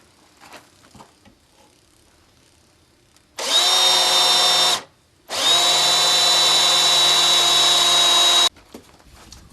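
Resistance drill needle boring into the log wall of a Colorado log home, with two loud, steady high-pitched whining bursts, the first shorter, separated by a brief pause, close by and alone over quiet background.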